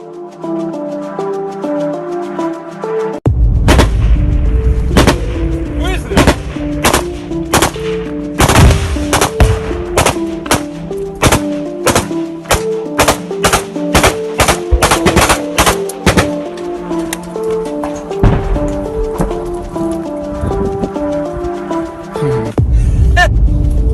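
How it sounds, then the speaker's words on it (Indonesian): Loud bursts of gunfire in house-to-house combat between soldiers crack out repeatedly, some in rapid clusters, over a droning low hum, with no talking. "salah satu prajurit juga tampak melepaskan tembakan lainnya ke arah musuh"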